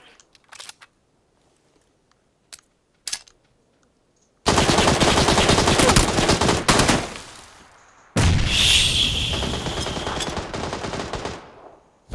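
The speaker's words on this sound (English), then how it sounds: "Someone else is shooting him." Battle royale video game gunfire: a few scattered faint shots, then a long loud sustained burst of automatic fire, a short break, and another heavy sustained volley fading slowly toward the end.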